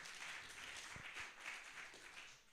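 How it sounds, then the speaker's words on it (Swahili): A church congregation applauds for Pastor Joseph with a steady, hissing wash of many hands clapping at once. It sounds somewhat distant and even, with no single claps standing out. "Tupigie Pastor Joseph makofi."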